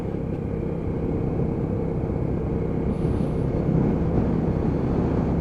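Lexmoto ZSB 125cc motorcycle ridden in third gear at low revs, a steady loud engine drone mixed with wind rumble, constant from start to finish.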